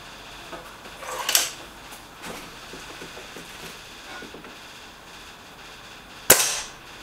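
A Crosman Silver Fox air rifle fires, giving a sharp, crisp crack, with another similar snap a few seconds apart amid quiet outdoor ambience.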